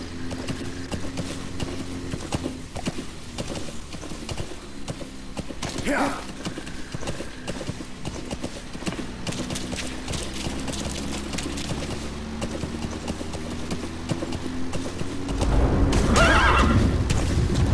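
Horse hooves clop steadily in a Metal Gear Solid V: The Phantom Pain game scene with a loud whinny, mechanical background hum, and a louder rush of noise near the end.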